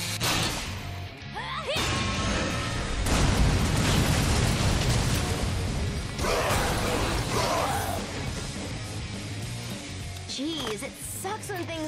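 Explosions and crashing blasts in the zombie-school action game Lollipop Chainsaw, loud broadband bursts with debris and whooshes sustained over most of the stretch, overlaid with game music and effects.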